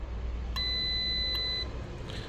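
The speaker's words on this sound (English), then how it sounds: "Now we'll put it on the normally closed, so it'll beep straight away." A 12 volt power A/B tester gives a sharp electronic beep about a second long, followed by a second short chirp, clear and close over a low background hum.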